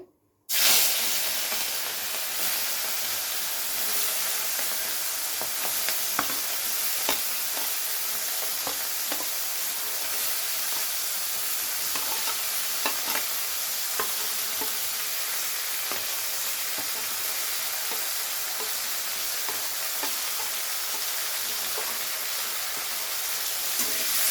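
Live prawns dropped into a pan of hot oil with mixed winter vegetables for a Bengali prawn curry, a sharp burst of sizzling at the start settling into a steady loud hiss and crackle, with occasional stirring clinks and no talk.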